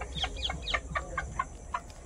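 Chickens and roosters cluck nearby in a quick series of short, fairly soft calls with brief gaps between them, over a low background hum.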